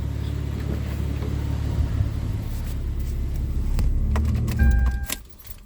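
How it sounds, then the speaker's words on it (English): A car engine idles with a steady low rumble inside a garage, then shuts off near the end and the sound drops away, with a brief clink of keys. "let me turn off the engine, because of course we're inside the garage"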